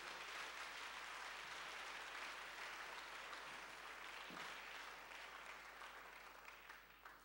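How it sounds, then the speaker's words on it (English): A church congregation claps their hands together in a continuous, even patter of applause, fairly faint and distant-sounding, tapering off slightly at the end. "Can you clap your hands one more time?"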